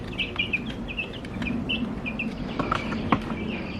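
Meat chickens cluck and chirp in short, repeated calls while being moved outdoors, heard fairly close over a constant background hum and a few soft knocks.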